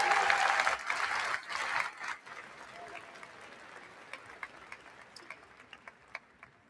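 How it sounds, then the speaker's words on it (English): Graduation crowd at a college of business commencement ceremony gives a big round of applause for families and friends, starting full and loud, then thinning out into scattered individual claps as it fades. "Give your family and friends the greatest round of applause that you can imagine."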